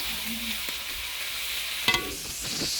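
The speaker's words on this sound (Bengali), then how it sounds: "আমি এখন তেল গরম করে দিয়ে দিলাম পেঁয়াজ বাটা তারপর এখানে দিয়ে দিয়েছি গোটা গরম মশলা" Onion paste and whole garam masala fry in hot oil in a wok, giving a steady broadband sizzle with occasional scraping stirs and a brief sharp clatter of a utensil against the pan.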